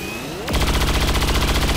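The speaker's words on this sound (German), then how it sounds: "dann schieß einfach mal so drauf" Rapid burst of gunfire in the XCOM 2 video game, a sharp onset followed by steady repeated loud shots for over a second, alone without talk.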